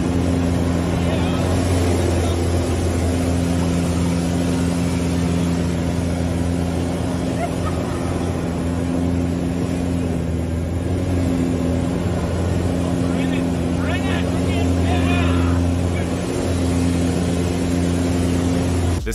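A small plane flying very low over water hums with a steady, loud engine drone throughout, fairly close with little change in pitch.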